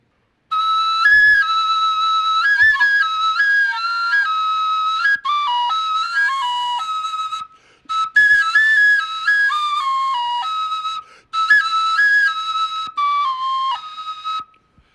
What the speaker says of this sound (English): This is a clay Aztec flute. And it's a piercing instrument. It's very powerful.